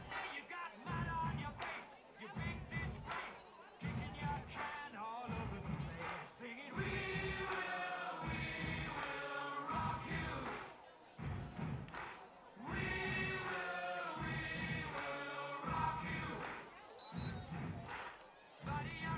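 A crowd at a high school varsity football game makes a steady, distant murmur punctuated by a rhythmic drumline, with faint cheers and a commentator talking over it.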